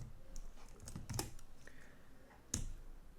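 Soft clicks of typing on a computer keyboard while coding, a few quiet scattered keystrokes with one sharper tap near the end, otherwise near silence.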